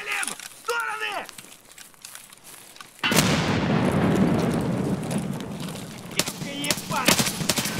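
A grenade goes off in Escape from Tarkov: after a few seconds of voices, a sudden loud blast hits and rolls into a long, broad, noisy rumble, with sharp cracks of gunfire near the end.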